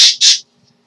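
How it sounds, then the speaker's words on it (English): A pet bird gives two quick, sharp, shrill squawks indoors, loud and close, and then the room goes quiet. "Sorry for the noise of the bird."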